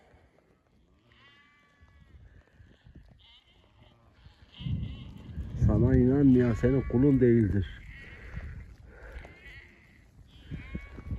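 Sheep bleating loudly and close in the Nurhak mountains, a strong wavering call that peaks midway and then fades, with a few fainter bleats around it; someone speaks over the quieter stretches.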